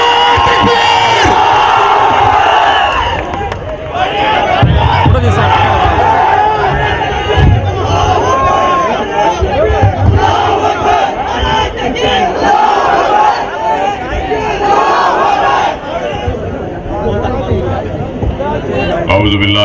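A large crowd at an Akbaruddin Owaisi rally in Kadapa roars a loud, sustained chanted response to a Takbir slogan call, with surging waves of massed voices and shouting for the entire stretch.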